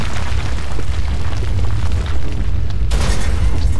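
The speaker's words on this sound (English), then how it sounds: "And now bombs are dropping in." Bombs explode in the video game Overlord, a dense booming barrage with deep rumbling blasts that run together, loud and close, with a fresh burst near the end.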